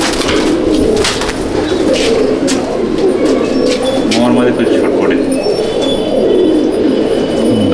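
Madrasi pigeons coo in a dense, continuous flock chorus, loud and close, under someone talking, with sharp clicks and clatter throughout.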